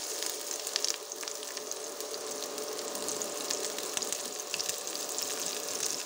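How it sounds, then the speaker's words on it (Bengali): Chopped onion hitting hot mustard oil in a pan while making coriander-potato paratha filling, a steady close sizzle and crackle continuing throughout. "পেঁয়াজ কুচি দিচ্ছি"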